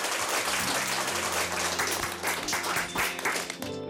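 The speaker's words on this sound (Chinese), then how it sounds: "那我们是不是再给泰迪一个热烈的掌声？" An audience gives Teddy a warm round of applause, many hands clapping at once in a thick, continuous wash of sound that holds steady before tapering off at the end.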